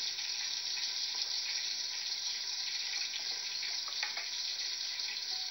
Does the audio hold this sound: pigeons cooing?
no